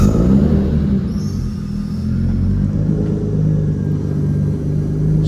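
A BMW E36 drift car, a turbo build, idles steadily with a low, continuous engine rumble close by, holding an even tone with slight fluctuations throughout.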